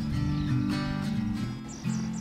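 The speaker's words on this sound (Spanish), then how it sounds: "Al costado de las calles podemos encontrar aves muy comunes como el chingolo." Rufous-collared sparrow chirping beside a dusty rural roadside, brief high repeated notes near the end over a steady low hum of background music or drone.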